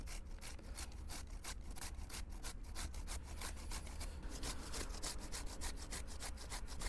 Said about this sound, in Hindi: तो कद्दूकस कर देते हैं गाजर को भी हम।